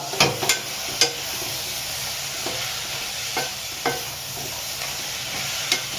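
Village-grown ghevda beans frying with spices in a pan, a steady close sizzle broken by sharp clicks and scrapes of a spoon stirring at irregular intervals, no voices.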